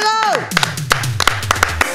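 Studio audience applause on a TV talk show comes as a handful of sharp, scattered hand claps, close and fairly loud, following a brief burst of a voice at the start.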